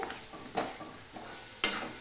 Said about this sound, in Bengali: মাঝে মাঝে আমি এইভাবে একটু নাড়তে থাকবো।